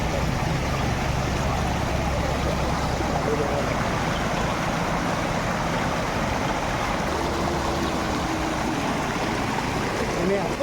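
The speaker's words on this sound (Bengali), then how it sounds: "একটা নদী বয়ে যাচ্ছে এখান দিয়ে" A river flows steadily and close by in a continuous broad rush of water, with someone wading across the cold current through it, constant and loud from start to end.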